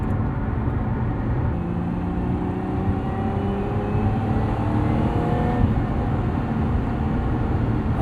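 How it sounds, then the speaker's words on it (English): Inside a 2025 Lotus Emira with a supercharged V6, a steady engine drone carries on at cruise with slowly shifting tones and a faint supercharger whine, without any talk. "that little bit of supercharger whine that you get with this too"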